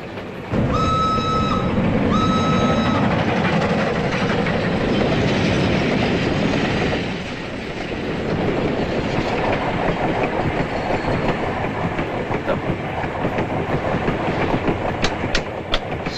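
A European passenger train rumbles steadily along the rails with rhythmic clattering, a brief high horn tone near the start, then continuous rolling noise.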